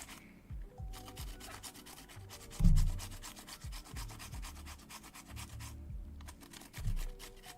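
A handheld grater worked in steady, close rasping strokes, a continuous scratchy grind that pulses with each pass and rises briefly in a couple of heavier strokes.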